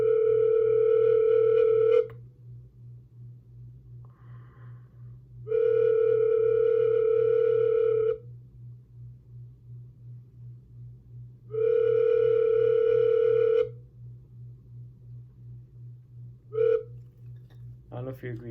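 A panflute plays three long, steady held notes separated by pauses, then a short final blip, each note pure and tone-like enough to resemble a telephone dial tone, over a constant low hum.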